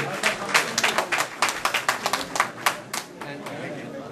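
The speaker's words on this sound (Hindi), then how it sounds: "भरपूर तालियां" An audience at an Abrar ul Haq event in Paris claps in bursts, sharp separate handclaps forming uneven applause that rises and thins over a few seconds, with a voice talking over part of it.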